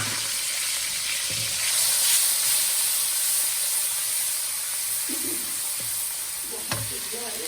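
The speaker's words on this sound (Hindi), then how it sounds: "ऑयल का खुशबू आना शुरू हो गया तो 1 टेबल स्पून मैं इसमें 1 table spoon ginger garlic paste डालेंगे।" Ginger garlic paste sizzling in a pan of hot butter and oil, a steady bright hiss throughout with a few soft clinks from a spoon, fairly close and with no talk over it.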